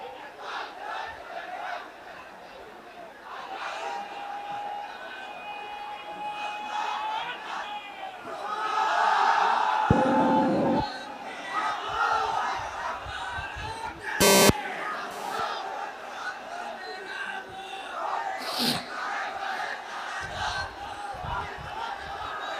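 A crowd at an Islamic waz mahfil religious gathering chants takbir back in unison, loud, massed voices swelling in bursts amid reverberant hall noise and a leading voice.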